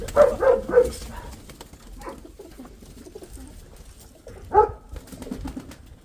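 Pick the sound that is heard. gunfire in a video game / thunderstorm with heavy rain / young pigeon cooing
young pigeon cooing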